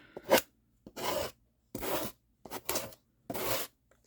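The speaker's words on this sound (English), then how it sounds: "I think what I might do is grab my sanding block here." Several short rasping strokes of a sanding block rubbing over fabric, close by, in a steady back-and-forth rhythm with brief pauses.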